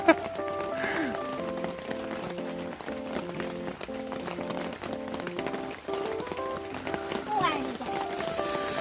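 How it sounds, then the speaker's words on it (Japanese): Heavy rain falls steadily at a family campsite, Hira Genki-mura in Shiga Prefecture, Japan, making a constant patter that runs under people talking nearby. "さあこの雨は止むんでしょうか。"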